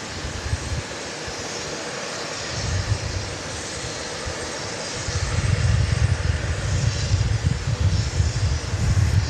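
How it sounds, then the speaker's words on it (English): A fixed-wing airplane takes off at Dallas Love Field, its engine roar a steady broadband rumble that swells louder and closer partway through and stays strong to the end, with no talk. "We'll watch a plane take off while the cloud cover abates."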